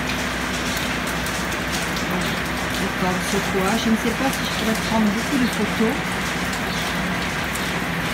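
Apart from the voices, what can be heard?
heavy rain on the coastal path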